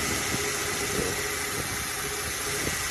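A Toyota Hilux 2.7-liter 3RZ-FE gasoline engine idles steadily and close after an idle screw adjustment, a low, even rumble with a faint rhythmic knock.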